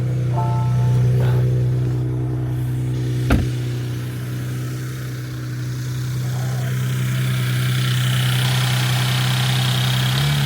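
A 2018 Porsche Panamera 4S 2.9L V6 biturbo idles steadily up close after fresh spark plugs, a constant low hum with a single sharp click partway through.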